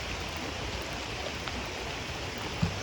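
Soft, steady rain patters into a small forest creek, a faint continuous wash of trickling water and drops with one brief louder splash near the end, heard from a short distance.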